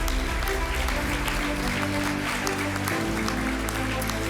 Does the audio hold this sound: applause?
yes